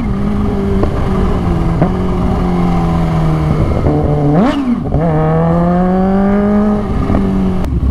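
A Raider motorcycle with a stiff clutch rides steadily, its engine droning loud and close with a brief rise and dip in pitch as gears shift mid-ride.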